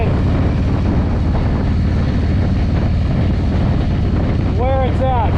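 Wind roars steadily and loudly past a 2024 Harley-Davidson Road Glide fitted with a Klock Werks windshield, cruising a back road at moderate speed, with a brief higher tonal sound near the end.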